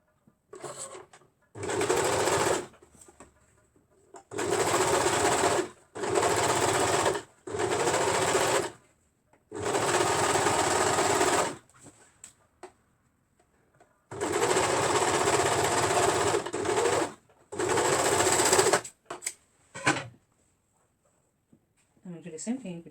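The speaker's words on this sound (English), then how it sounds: "You can see the overlock is sewing" An overlock machine sewing fabric for short pants runs in repeated loud bursts of steady mechanical whirring, a few seconds each, separated by brief pauses. Nobody talks.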